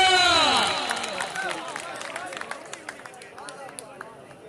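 At a sports match at Al Noor Stadium in Noorpur Thal, a crowd cheers and claps. A loud roar fades away over a few seconds, leaving scattered claps and babbling voices.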